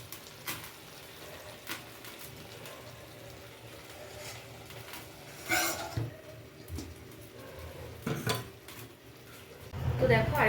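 A lid is set back over a pan where chicken wrapped in banana leaf cooks in oil: soft metallic clinks and scrapes, a sharper clatter midway, and a louder rattle near the end over a faint steady sizzle.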